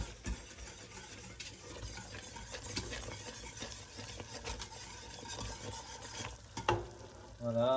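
Thick quince paste being stirred in a pan as it cooks down, a steady scraping, bubbling texture up close with soft clunks of the spoon, continuing alone without talk.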